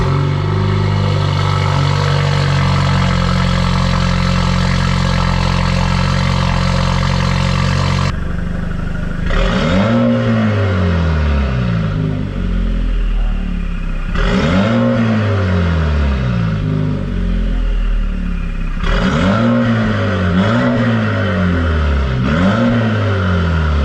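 A Jeep Wrangler with a sports cat downpipe and Thunderbolt exhaust, heard first at a loud steady drone, then revved in three repeated swells that rise and fall close by.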